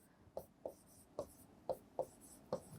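A pen taps and scratches out numbers on paper while working a math problem, six short, quiet, evenly spaced strokes close by.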